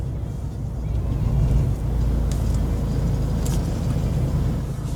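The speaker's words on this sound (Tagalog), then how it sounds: "Ang traffic ang dami pa rin ang dami nag-uuwian." Steady car traffic outside an airport terminal's arrival area, a continuous low engine rumble and road noise close by, with occasional faint higher hiss from passing vehicles.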